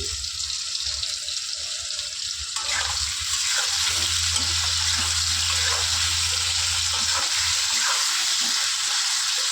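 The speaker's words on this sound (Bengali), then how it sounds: "এবার এর মধ্যে দিয়ে দেবো কেটে রাখা আলুগুলো" Cut potatoes tipped into a pan of hot oil for a vegetarian raw-banana dhoka, the sound jumping into a steady sizzle partway through, with stirring scrapes and a low background hum.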